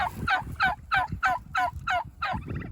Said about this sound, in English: They're all gobbling and making all their noises.